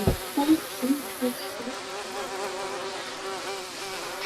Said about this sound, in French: le bruit des mouches là